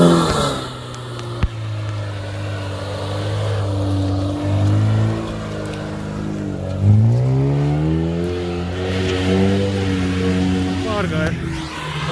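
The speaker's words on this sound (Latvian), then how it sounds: "Ņivas brauc." Lada Niva off-road cars driving and revving through mud, engines rising and falling in pitch in a steady, close drone with a big rev surge midway, people talking over the engine noise.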